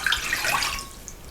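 Water runs steadily into a cup or measuring vessel for making simple syrup, a soft continuous pour with no talking, close and moderately quiet, tapering slightly toward the end.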